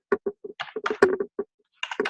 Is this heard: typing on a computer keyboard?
yes